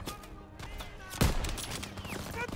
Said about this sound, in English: They're shelling that beach to shit.